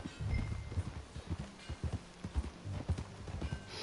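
Horse hooves clip-clopping at a steady walking pace in the video game Red Dead Redemption 2, a rhythmic series of close, soft thuds over quiet ambient background.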